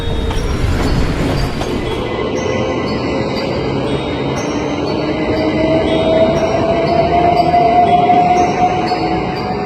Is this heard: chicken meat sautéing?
no